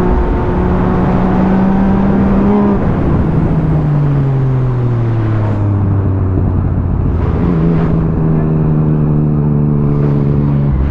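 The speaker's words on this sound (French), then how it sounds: "quand tu remets gaz en grand," A motorcycle accelerates at full throttle on the road, its loud engine note climbing through rising pitch sweeps, dropping between gear changes, then climbing again, close and continuous with no talking.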